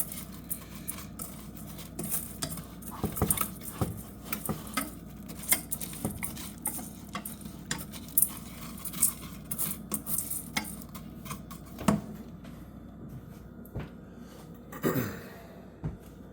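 A utensil scrapes and taps through melting sugar in a pan as caramel forms, faint irregular stirring clicks and knocks scattered over a quiet background hiss.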